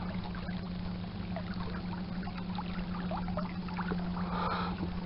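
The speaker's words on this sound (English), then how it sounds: "I think I would like to get a bigger trolling motor so I can go a little faster." A small electric trolling motor drives a fishing boat across the water, giving a steady low hum under continuous water wash and light splashing, with no talking.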